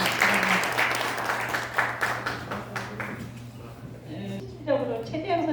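Audience applause in a Korean lecture hall, a burst of clapping that thins out toward the end as a voice begins speaking over it.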